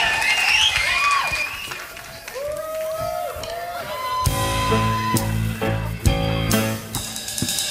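Audience applause and cheering for a performer at a crew talent show aboard the cruise ship MS Rotterdam, a sustained crowd roar that gives way to loud band music starting midway.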